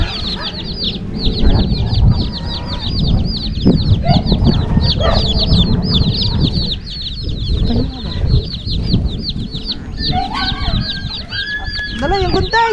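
Chickens cluck repeatedly nearby in a busy, overlapping chorus, with occasional rustling and a few background noises.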